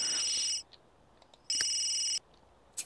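A phone rings in a video game with two loud electronic bursts separated by silence, and a third begins at the end, sharp, bright and up close.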